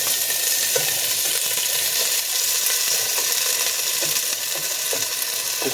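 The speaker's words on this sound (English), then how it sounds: "now we're going to fry the yam" Yam sizzles and fries in about two tablespoons of oil in a pot, a loud, dense continuous crackle with faint scraping stirs underneath and no talking.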